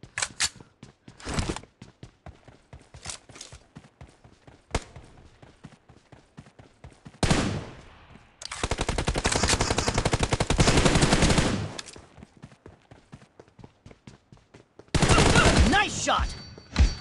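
Rapid automatic gunfire from a shooter video game, arriving as loud sustained bursts and scattered single shots, with quieter gaps between volleys.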